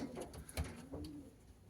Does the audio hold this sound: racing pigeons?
yes